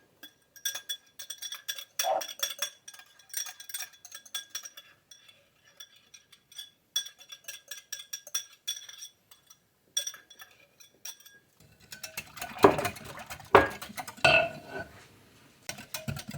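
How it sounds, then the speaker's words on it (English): Whisking two egg yolks in a bowl for homemade banana pudding, a run of quick, light clinks and scrapes from the whisk against the bowl, growing louder and busier toward the end. "Once this is whisked up really well"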